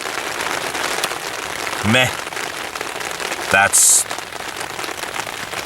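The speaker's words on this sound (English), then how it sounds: "The wind has kind of died down. The rain kind of hasn't." Spring rain falls steadily on a tent, a continuous close patter throughout, broken by a couple of brief spoken remarks.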